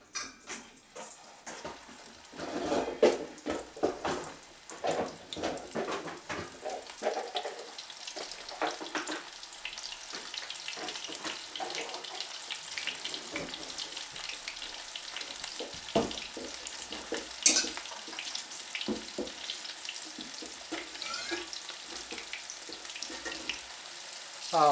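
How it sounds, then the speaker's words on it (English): Small perch fillets fry in hot oil in a pan, a steady close sizzle with occasional clinks of utensils against the pan and no talking. "One of the biggest things with frying fish is making sure not to overcook it."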